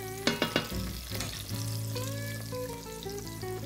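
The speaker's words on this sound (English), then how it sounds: "Let's get this squash in here with the onions." Butternut squash goes into a hot pan with onions, a few sharp clattering drops first, then a steady close sizzle and frying hiss with light stirring.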